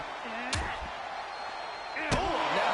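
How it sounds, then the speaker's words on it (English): Two heavy stomps land at ringside during a women's wrestling bout, sharp thuds about a second and a half apart, with commentary talking over them and crowd noise behind. "Big stomps on the outside."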